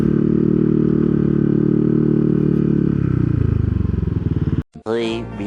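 A Yamaha Nmax Techmax 155 scooter with an open muffler runs with a loud rough engine drone that shifts pitch and pulses, then cuts out abruptly before a brief rising rev, close by.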